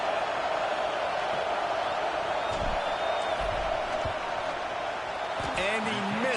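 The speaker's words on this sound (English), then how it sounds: "This crowd trying to do its part to get inside the kicker's head" Stadium crowd roar in Madden 26 during a field goal attempt, a steady dense wash of cheering with occasional thumps underneath, heard under continuous commentary.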